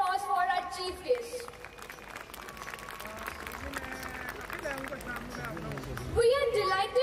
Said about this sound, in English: Please give a big hand of applause for our chief guest.